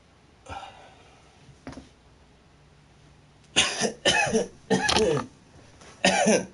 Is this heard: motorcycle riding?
no